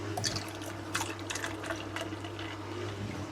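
Liquid poured from a bowl with a small spout into a pot up to its freeze-fill line, a steady trickling stream with a few splashy bursts over a constant low background hum.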